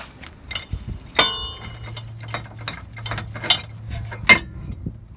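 Ratchet on an inner tie rod tool clicks in short bursts as a breaker bar loosens the tie rod on a 2009 Honda Pilot, with sharp metallic ticks and a low mechanical hum between strokes, close and fairly loud.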